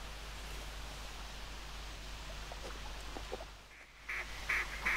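Gadwall ducks in a flock call faintly in the distance over a steady hum, with a few louder nasal calls near the end, in a hunting video game.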